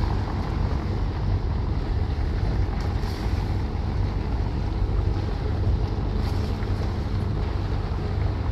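A passenger launch approaches Sadarghat in a launch race, heard as a steady low rumble of engine and water under constant buffeting wind noise.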